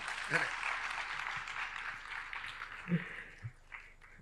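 An audience at a Gujarati talk event applauds, a moderate, steady patter of clapping with a few louder claps and some voices mixed in.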